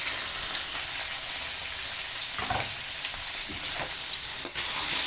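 Marinated pork strips fry in a pan with a loud, steady, dense sizzle throughout, broken by a few brief scrapes and stirring knocks near the middle and end.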